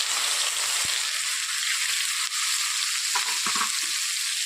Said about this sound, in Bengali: আমি পেঁয়াজ আর টমেটো কুচি একসঙ্গে দিয়ে দিচ্ছি